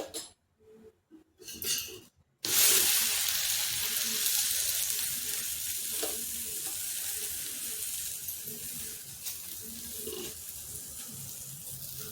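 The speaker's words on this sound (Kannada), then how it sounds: "ಇದಕ್ಕೆ ಬೆಣ್ಣೆ ಹಾಕ್ಕೊಂಡು ಸುಟ್ಟರೆ ಚೆನ್ನಾಗಿರುತ್ತೆ ಅಥವಾ ತುಪ್ಪ ಹಾಕ್ಕೋಬಹುದು" Ragi roti roasting in oil on a hot pan gives a steady, loud sizzle and crackle that runs from about two seconds to the end, after a few brief bursts and gaps at the start.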